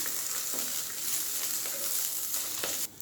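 Vallarai keerai (Indian pennywort) leaves sauté in a pan with a steady, close sizzle and soft crackle, an occasional stir scraping through, with no voices.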